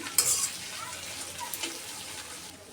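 Chopped ginger sizzles briefly in hot oil in a pan while being stirred, a short burst of frying hiss with faint utensil scrapes, close and fairly quiet.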